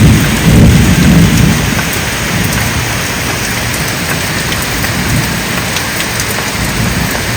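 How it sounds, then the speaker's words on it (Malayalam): Heavy rain pours steadily in a thunderstorm, a dense continuous roar with a louder rumble of thunder early on, heard from indoors with no talking. "കാരണം അത്രത്തോളം നല്ല രീതിയിൽ ഇടിവാളും ഉണ്ടല്ലോ."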